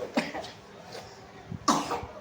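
A sick child with a cold coughs in a few separate bursts, close by, with short pauses between them and no talking.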